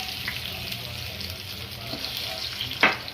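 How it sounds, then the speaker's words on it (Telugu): Marinated fish frying in hot oil with green chillies and curry leaves: a short, steady close sizzle with a soft rushing hiss, ending in a brief louder burst as more pieces hit the oil. "ఆయిల్ వేడైన తర్వాత పచ్చిమిర్చి, కరివేపాకు వేసి ముందుగా మ్యారినేట్ చేసుకున్న ఫిషెస్ని"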